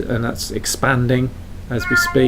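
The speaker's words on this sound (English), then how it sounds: "Yes, that's the cat." A cat meows several times in a farming setting, with clear repeated meows mixed in with someone talking over them.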